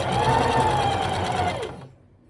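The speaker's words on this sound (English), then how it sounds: "I'm just going to back tack." A sewing machine back tacks a seam on a handmade plush toy. It makes a close, fast whirring run that slows and stops after about two seconds, then falls silent.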